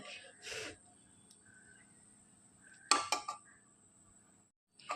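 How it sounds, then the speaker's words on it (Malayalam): A few quick scraping, clinking strokes of a spoon against a pot of cooked fenugreek rice porridge, with a brief rustle before and a faint knock at the end. "നമുക്കൊന്ന് ഇളക്കി നോക്കാം"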